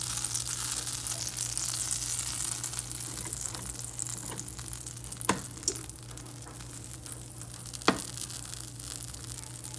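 Butter sizzles in a pan over medium heat, a steady soft frying hiss with a low hum underneath and a couple of brief clicks, fairly quiet and with no talking.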